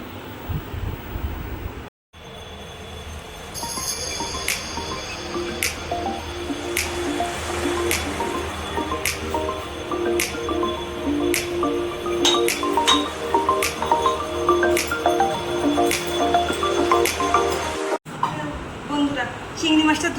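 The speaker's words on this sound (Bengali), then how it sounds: "বন্ধুরা চিংড়ি মাছটা ধুয়ে পরিষ্কার করে নিয়েছি।" Raw prawns rinsed and rubbed clean by hand in water, with steady wet squishing, dripping and splashing, plus occasional light clinks of a container, continuous and close.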